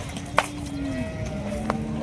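A large dairy cow at a busy livestock market gives a single low, drawn-out moo, with two brief sharp knocks around it and the murmur of the crowd in the background.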